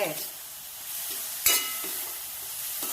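Vegetables sautéing in a pan for manchow soup give a steady, soft frying hiss close by, with a sharp utensil clack midway and light stirring scrapes.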